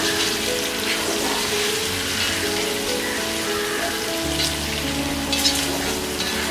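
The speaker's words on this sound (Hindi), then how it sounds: "फ्राई होने के बाद हम डालेंगे ये अनियन," Onions sizzle steadily in a hot pan for masoor dal khichdi, a continuous loud frying crackle with occasional stirring scrapes, no voices.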